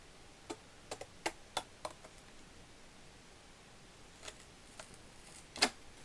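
Scissors snip the points off a paper Christmas album, producing a handful of sharp, isolated cuts spaced irregularly in a quiet room.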